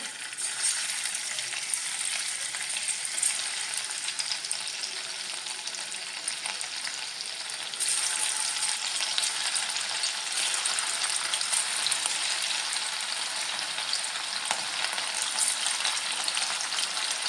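Anchovies fry in coconut oil with a dense, steady hiss and crackle that runs unbroken and fairly loud, getting a touch stronger partway through.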